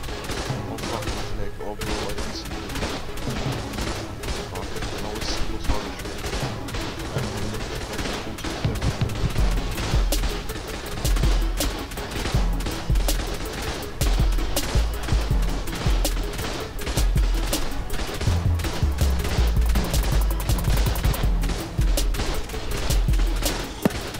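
Gunfire in the survival game Rust during a raid, dense rapid bursts and shots rattling almost continuously, loud and close, with voices talking over it.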